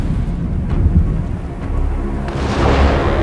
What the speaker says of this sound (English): God unleashed a storm upon the sea.